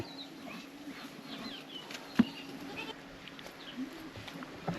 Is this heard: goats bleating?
yes